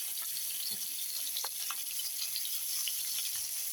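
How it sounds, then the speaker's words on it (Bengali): Rohu fish pieces frying in oil for a curry with potato and lentil dumplings, a soft continuous sizzle with a few faint taps of turning the fish, no voices. "মাছ এপাশ ওপাশ উল্টে দিচ্ছি, দিয়ে লাল লাল করে ভেজে নেব।"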